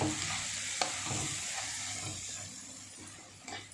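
Masala frying in a pan for a shahjeera carrot khichdi gives a soft steady sizzle, with a few light spoon scrapes and taps as it is stirred. It is close and fairly quiet, with no voices.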